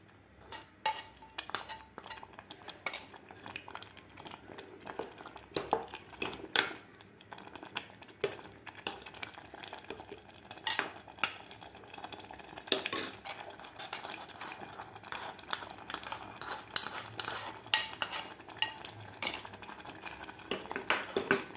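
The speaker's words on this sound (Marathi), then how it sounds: "तर आता आपल्याला व्यवस्थित हे मिक्स करून घ्यायचं आहे." A spoon scrapes and clinks steadily in a pot as a pav bhaji mixture with red chili powder is stirred, soft irregular scraping and tapping close by, with no talking.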